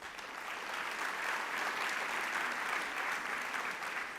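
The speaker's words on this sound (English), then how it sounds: "I think you all deserve a round of applause." The audience at the Z3 Conference 2019 opening plenary gives sustained applause, a dense and even roar of many hands that holds steady in volume, with no talking over it.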